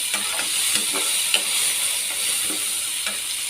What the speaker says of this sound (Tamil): சுண்டல் போட்டு நல்லா கலந்து விட்டுது